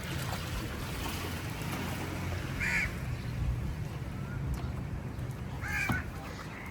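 Crows caw twice from a short distance over a steady outdoor wash of wind and water, the calls brief and harsh, standing out against the constant background noise.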